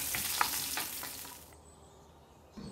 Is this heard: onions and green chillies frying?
yes